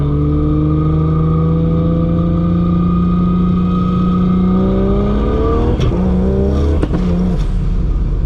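A Ford Falcon GT350 accelerates with a rising, droning engine note that climbs steadily, then breaks into quick no-lift sequential shifts with sharp cracks near the end, loud and close.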